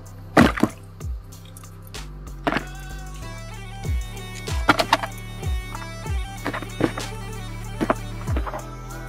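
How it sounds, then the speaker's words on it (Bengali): Whole vegetables are swished and rinsed by hand in water for a boiled mixed-vegetable dish. The sound is close, with irregular splashes, drips and soft knocks against a vessel and no talking. "প্রথমত আমরা এই সবজিগুলো ভালো করে ধুয়ে"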